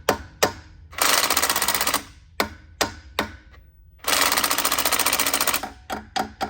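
A 730hp Detroit diesel truck engine with a newly changed turbine housing clacks under light throttle, a loud, close, rapid mechanical rattle in long sustained runs broken by short sharp bursts.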